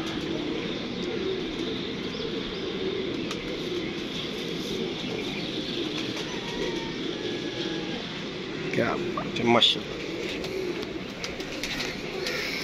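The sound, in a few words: pigeons cooing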